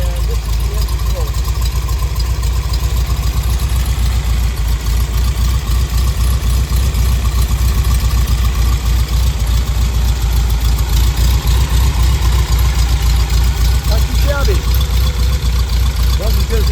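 A Karmann Ghia car engine idles with a steady, loud low rumble and fine rhythmic pulsing throughout, someone speaking over it.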